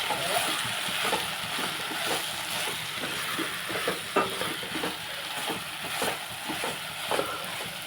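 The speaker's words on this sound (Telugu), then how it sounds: "ఇంకో స్పూను జీలకర్ర ధనియాలు ఒకసారి కలిపేసి కొంచెం వాటర్ వేసేస్తే సరిపోతుంది" Cumin and coriander stirred with a splash of added water in a hot pan, giving a steady close sizzle with wet scraping and bubbling, loud and continuous.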